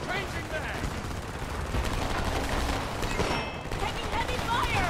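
Heavy automatic gunfire rattles continuously in the Homefront video game, loud and dense with overlapping bursts and explosive cracks throughout.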